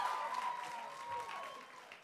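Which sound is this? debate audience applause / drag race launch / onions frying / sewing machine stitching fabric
debate audience applause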